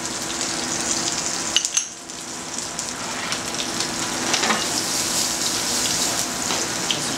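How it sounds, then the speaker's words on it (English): English peas tipped into a hot pan on a stove beside whole roasted branzino, giving a steady, bright sizzle and crackle close by, with a brief stir-like disturbance near the start and no talking. "We're going to add in some of our English peas."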